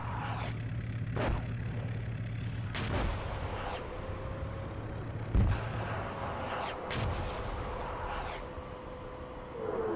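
Distant artillery fire in the tank simulator Steel Beasts Pro, a series of dull booms and sharp cracks spread across the stretch over a steady low vehicle drone, with one heavier thump in the middle.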